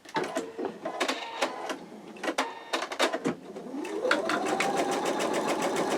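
An embroidery machine stitches out an in-the-hoop wallet, its needle pounding in fast, steady bursts with brief pauses, then settling into a continuous mechanical whir, loud and close with no talking.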